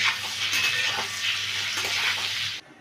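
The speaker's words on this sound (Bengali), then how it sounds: "এবারে ডিমগুলো একটু আমি নাড়াচাড়া করে নিচ্ছি।" Beaten eggs with turmeric and chilli powder stirred in a pan for a steamed egg dish, a steady close sizzle with soft scraping strokes that cuts off near the end; no talking.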